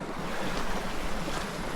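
A river crossed on foot during solo bushcraft camping, heard as steady, close rushing water that holds an even, broadband wash with no voices.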